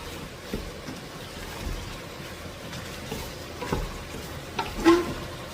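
Beef sautéing in a little oil in a pan, a steady soft sizzle with occasional stirring clinks and scrapes, close and moderately loud throughout.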